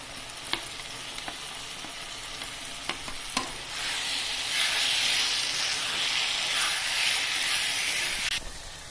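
A spoon scrapes and clatters in a pan a few times, then a steady loud sizzle of colocasia leaves and jackfruit seeds frying takes over and continues to the end.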